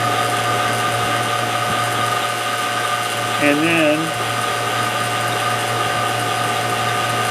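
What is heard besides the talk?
vacuum pump running on a car AC system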